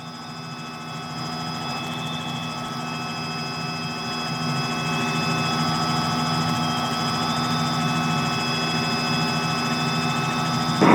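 A Robinson R66 helicopter climbs away at about 50 knots near Elstree and Denham, its turbine and rotor drone steady and loud throughout, with tonal whines layered over a constant low throb.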